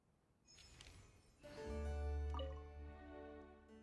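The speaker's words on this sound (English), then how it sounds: "First cup poured from a fresh bottle is most fragrant." Apple cider being poured into a cup in Genshin Impact: a few soft drips, then a steady filling gurgle with a rising tone, faint and close with no talk.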